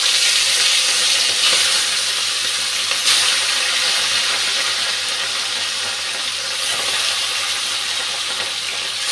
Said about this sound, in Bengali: তেলটা গরম হয়ে গেছে, মাছটা ভাজতে বসিয়ে দিচ্ছি।